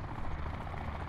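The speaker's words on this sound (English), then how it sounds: "There's another helicopter." Steady low rotor chop of a helicopter in the video game Call of Duty: Black Ops 4, fairly loud and continuous, with a dense rumbling drone throughout.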